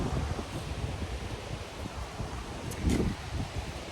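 Gusty wind on a windy, rainy day on Koh Phangan blows steadily across the microphone with leaves rustling, swelling into a stronger gust near the end.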